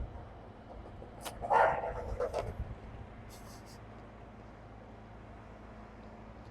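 A sassy small dog riding in a stroller barks and yips in a short burst as it passes outdoors, moderately close, then fades back into quiet background ambience.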